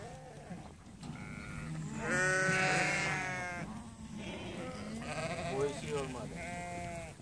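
A flock of merino sheep bleats repeatedly in a farmyard, the calls overlapping and fairly close, with people shouting and talking over them throughout.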